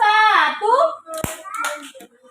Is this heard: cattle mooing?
no